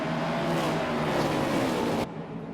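NASCAR stock cars racing three wide into turns one and two at Richmond Speedway, a dense, loud roar of engines sweeping past that cuts off abruptly near the end, leaving a quieter rumble.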